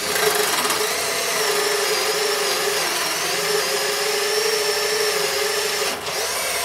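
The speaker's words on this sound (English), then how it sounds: "we're going to use the maximum 10mm bit in all 4 drills" A Makita 10.8V cordless drill with a 10mm bit whines steadily under load through its bore, a continuous high motor tone that dips briefly near the end as it breaks through.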